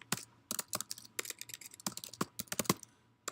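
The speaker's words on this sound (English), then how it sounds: "my typing is going to be really loud, and I apologize for that too" Loud, close clicks of a computer keyboard come in quick irregular bursts of keystrokes with short pauses between them, with no voices over them.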